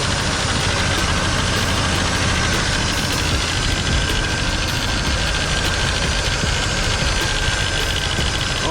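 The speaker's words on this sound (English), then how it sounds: "It sounds like that pulley loose. It might be doing a little shaking." A 1989 GMC Sierra engine with a loose pulley runs at a steady idle, giving a continuous low rumble with a faint rhythmic knock and vibration, close and unbroken, with no talking.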